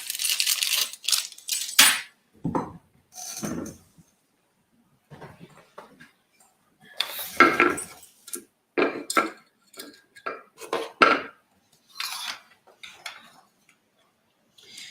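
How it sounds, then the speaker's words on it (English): A bronze pull runs along the zipper of an Italian leather bag, giving separate short bursts of zipping, clicking and rattling metal with gaps of silence between them. "Let me zip it up with a bronze and I'll take it right back off."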